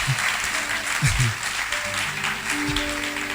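A church congregation breaks into applause, a dense patter of clapping that carries on steadily behind a voice speaking.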